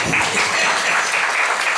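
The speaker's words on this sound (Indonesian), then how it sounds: "Tepuk tangan dari Tuhan." A church congregation applauds during a sermon, a short burst of dense, even clapping from many people, loud and continuous without speech over it.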